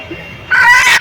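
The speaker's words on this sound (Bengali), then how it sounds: "এই কক মুরগি আজকে রান্না হবে" A cock chicken gives a single short, loud, close call lasting about half a second after a brief quiet stretch.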